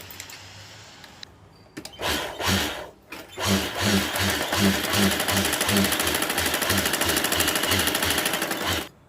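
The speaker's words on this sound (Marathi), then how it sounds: "अशा पद्धतीनं आपण चारे बाजूला टीप मारून घ्यायची" A sewing machine stitches around all four edges of the inner pocket of a homemade cloth handbag. It starts and stops briefly, then runs in a loud, steady, rapid mechanical rattle of close, even stitching for several seconds.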